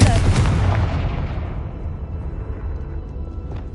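A Confringo spell in Hogwarts Legacy goes off as one loud fiery blast, its bright roar dying away over a few seconds into a low rumble.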